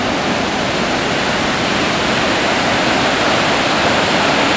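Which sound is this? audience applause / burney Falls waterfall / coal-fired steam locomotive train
burney Falls waterfall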